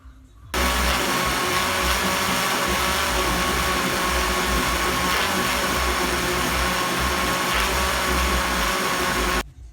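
A blender whirs loudly and steadily for about nine seconds mixing wet ingredients for an Oreo chocolate fudge cake, starting abruptly and cutting off at the end, close and alone.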